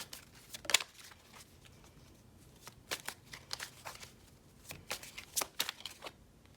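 Tarot cards being shuffled in a reading, giving soft crisp riffles and slaps in irregular bursts, close and fairly quiet, with no voices.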